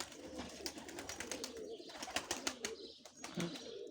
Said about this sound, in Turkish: Seviyoruz arkadaşlar kuşlarımızı